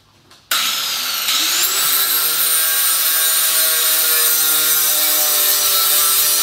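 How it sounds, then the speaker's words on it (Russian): An angle grinder spins up after a brief quiet start, then holds a loud, constant high whine as it cleans weld seams on a car body during fender and wheel arch repair. No one speaks. "Берем болгарочку и вычищаем швы."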